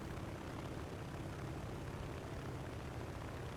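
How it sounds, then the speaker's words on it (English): Propeller engine drone of a Bf 110 twin-engine fighter in a flight video game, a steady loud continuous roar with no break and no talk. "BF-110. Beautiful plane."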